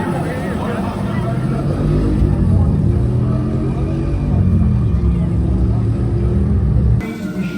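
Theme park motorbike ride at Islands of Adventure, a loud continuous rumbling engine-like roar with shifting tone, cutting off abruptly near the end.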